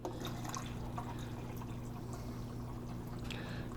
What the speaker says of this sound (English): once again I am going to pour my liquid